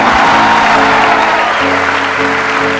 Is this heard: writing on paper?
no